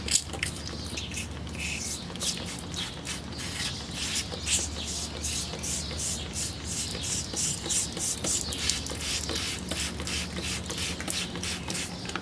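Rubbing alcohol misted from a spray bottle onto a very dirty NES-101 top loader console, repeated short hissing sprays in a steady rhythm, close and fairly loud over faint background noise, with no talking.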